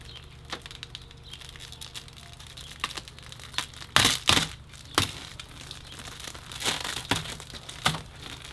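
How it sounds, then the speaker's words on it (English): New Spec-D red LED taillight for a Focus ST having its rubber seal peeled away, giving soft crinkly tearing close by, with a few sharper rips and pulls standing out amid quiet stretches. "I'm gonna go ahead and take the rubber off of it"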